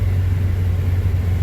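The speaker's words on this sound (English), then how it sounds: "Old Suburban is doing awesome. It goes like a billy goat." An old Chevrolet Suburban engine rumbles low and steady while driving through snow, a loud continuous drone heard from inside the vehicle without speech.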